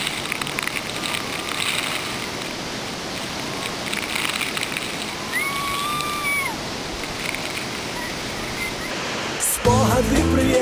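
Iguazu Falls waterfall in Argentina roaring close by as a dense, loud, constant rush of water, with faint high whistling calls above it before the sound cuts off abruptly near the end.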